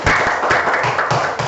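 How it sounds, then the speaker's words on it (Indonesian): Applause for a student's answer in a classroom lesson, a dense run of clapping from a group that fills the short stretch at steady loudness. "Tepuk tangan untuk jawabannya."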